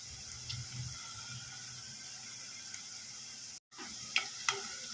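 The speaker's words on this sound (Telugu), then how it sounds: "కరివేపాకు వేసుకొని కొంచెం ఫ్రై చేసుకొని ఈ టైంలో పసుపు వేసుకోవాలి" Curry leaves and turmeric frying in a pan, a soft continuous sizzle with light stirring, a brief cut to silence and then a couple of sharp spoon clinks near the end, no speech.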